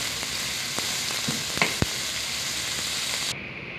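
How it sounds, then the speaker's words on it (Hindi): Chopped onions sizzle steadily in hot oil on full flame while being cooked until pink, with a few stirring knocks, and the sound cuts off abruptly near the end. "चॉप की हुई और प्याज को हमने पिंक कर लेना है"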